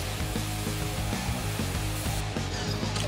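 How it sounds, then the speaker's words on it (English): Pressure washer spraying a tire, a dense steady hiss of water blasting continuously at close range with a pulsing low rumble underneath. "Let's go ahead and pressure wash this."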